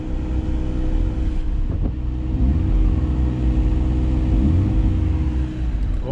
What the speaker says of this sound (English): is it ever rev nice with those new coils and spark plugs?